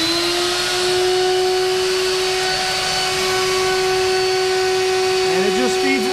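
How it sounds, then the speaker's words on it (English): A shop vac hooked to a go-kart tube, sealed with a stuffed glove, pulls synthetic cable through with a loud, steady, close droning whine that holds throughout, pitch wavering slightly near the end. "hook the other end of the tube to a shop vac with a glove stuffed in there to seal it up and turn it on"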